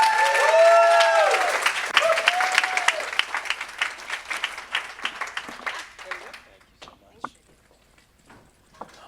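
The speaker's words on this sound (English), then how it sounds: "I want to hear the biggest round of applause of the whole day for you all" A conference audience gives a big round of applause that starts full and loud with cheers, then thins out into scattered individual claps before fading to near silence.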